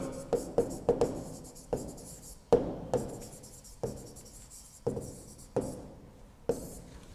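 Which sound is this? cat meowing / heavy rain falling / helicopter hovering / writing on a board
writing on a board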